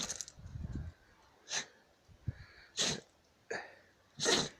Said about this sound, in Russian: Уже минуту так чихает.